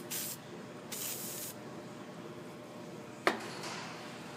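Two brief hisses of an aerosol spray on clamps close by during a 6.4L Powerstroke EGR throttle plate repair, followed later by a sharp click and one more short spray burst.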